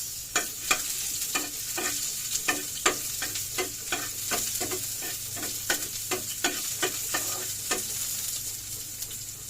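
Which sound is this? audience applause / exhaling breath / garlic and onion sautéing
garlic and onion sautéing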